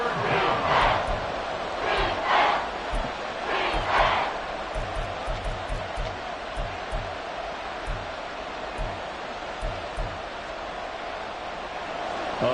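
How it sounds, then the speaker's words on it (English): A football stadium crowd roars and swells during a big play, a dense wash of massed voices with rhythmic bursts, heard under commentary. "A big play here as the crowd noise rises."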